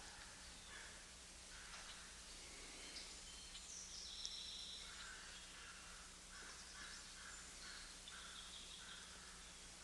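Faint crows caw in the distance over a hum of outdoor background noise, with a few scattered bird calls.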